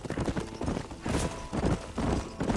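Horse hooves clip-clop in a steady galloping rhythm in the Red Dead Redemption video game near Blackwater, close and continuous for a few seconds without talk.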